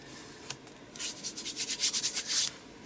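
Paper is rubbed down by hand onto an art journal page, a quick series of soft, close, brushing swipes in a rhythmic burst after a few separate strokes, quiet and alone.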